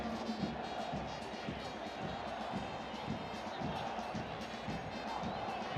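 Stadium crowd at a Concacaf Nations League football match between El Salvador and Trinidad & Tobago, a steady broad roar of fans reacting with disbelief, continuous and dense with faint shouts rising through it.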